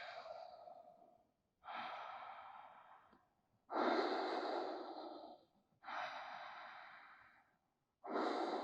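Slow, deep breaths during a vinyasa yoga flow, with four or five airy inhales and exhales separated by short pauses, quiet and close, with no talking.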